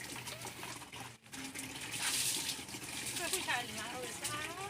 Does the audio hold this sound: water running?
yes